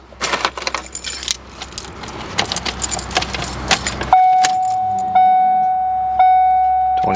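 Keys for a Ford Mustang GT parts car jangle loudly and close in a burst of irregular metallic clinks for about four seconds, then a steady electronic chime tone sounds in repeated stretches, with no engine turning over.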